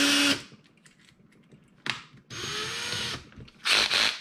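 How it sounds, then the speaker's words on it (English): Power drill fitted with a 5/32 bit drilling into a diecast toy car base, several short whirring bursts of the motor separated by pauses, close and loud. "And then the next drill bit I'm going to use is a 5/32 drill bit."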